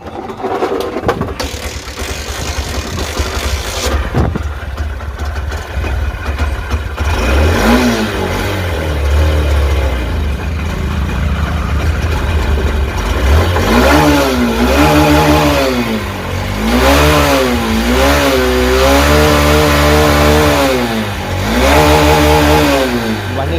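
A Honda Shine BS6 motorcycle with starting trouble runs after a kick start, its engine loud and close, idling with a steady hum and then revving up and down in repeated throttle blips.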